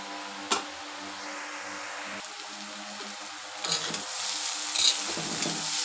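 Spiny gourd (kakrol) bhaji frying in a pan, soft steady sizzle with scraping strokes of a spatula stirring the vegetables, a few sharper clinks and bursts near the end.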